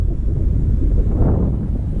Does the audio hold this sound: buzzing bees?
no